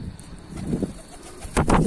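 Kelebek pigeons coo low and soft during feeding, short murmuring calls, with a louder rustling burst near the end.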